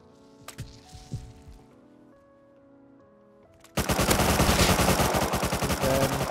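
Rapid automatic gunfire from a first-person shooter game, loud and dense, bursting in abruptly after a few seconds of quieter game sounds and continuing as a steady rattling stream to the end.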